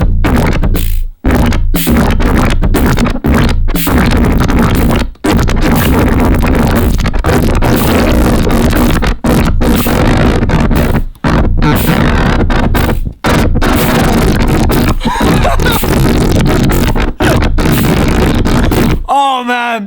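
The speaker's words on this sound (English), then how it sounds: "I've made a synthesizer that's devoted to farting" Analog fart synthesizer, a dedicated fart box, blurts a loud, dense run of buzzy, sputtering fart tones played along with drums, with brief gaps between phrases and an abrupt cutoff at the end.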